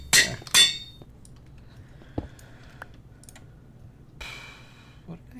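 An anvil in use in the Minecraft video game during an Ultra Hardcore match: two sharp, bright metallic clanks right at the start, then only sparse faint clicks over a low, steady background hum.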